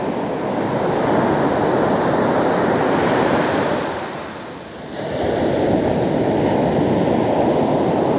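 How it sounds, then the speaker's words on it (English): Ocean surf roars steadily as the tide comes in, a loud continuous wash of breaking waves with wind buffeting the microphone, easing briefly midway before surging back, with no voices. "The tide is actually coming in, so it may be a fruitless endeavor."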